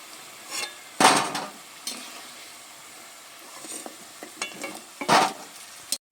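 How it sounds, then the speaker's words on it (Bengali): Kotkoti dough pieces sizzle softly in hot oil in a kadai, broken by loud metal scraping and clanks of a slotted spoon lifting them out, with scattered light taps in between. "বেশ সুন্দর করে লালচে করে ভেজে নিয়েছি, এবার তুলে নিচ্ছি।"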